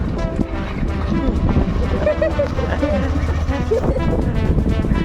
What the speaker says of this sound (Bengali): এই যে দেখো মামার বাইকে চড়ে যাচ্ছি মামা বাইক চালাচ্ছে